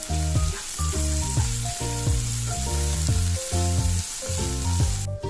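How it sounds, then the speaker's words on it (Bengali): Chopped onions frying in hot oil for a home-style Bengali chicken curry, a steady crackling sizzle under loud rhythmic background music, no talking. "এবার এই পেঁয়াজটা জাস্ট হালকা করে একটু ভাজবো, লাল লাল হবে সেরকমভাবে ভাজবো"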